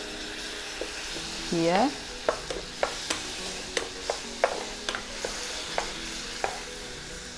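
Garlic stir-fried in a pan without oil for Thai pad kra pao: close, sharp tapping and scraping of a spatula against the pan over a light sizzle, with a brief spoken word near the start.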